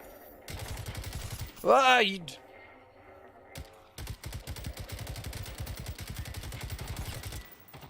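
Automatic gunfire in Generation Zero, two long rapid bursts of sharp, evenly spaced shots separated by a quieter gap holding a brief rising electronic squeal, close and loud with no voices.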